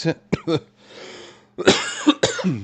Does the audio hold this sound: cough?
yes